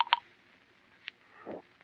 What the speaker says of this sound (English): Melody, get my lawyer on the phone.